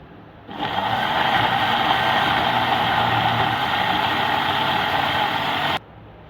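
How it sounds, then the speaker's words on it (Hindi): A kitchen blender switches on and whirs steadily, blending onion, ginger, garlic, yogurt, gram flour and water into a paste, a loud motor hum with grinding texture that runs for about five seconds and then cuts off abruptly. "अब इसमें थोड़ा सा पानी ऐड करके इसे ब्लेंड करेंगे।"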